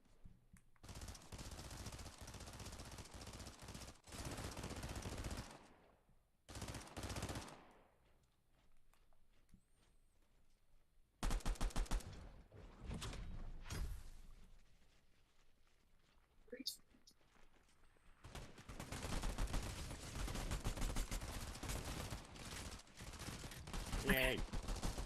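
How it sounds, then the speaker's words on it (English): Video game gunfire in long, dense, sustained bursts that cut off abruptly and resume, loud and continuous across most of the stretch, with faint voices at times. "Somebody's coming in, shooting at me."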